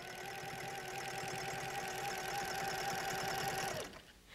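A sewing machine runs steadily at speed while quilting, a loud continuous rapid mechanical whir for nearly four seconds before it stops abruptly and the sound drops away.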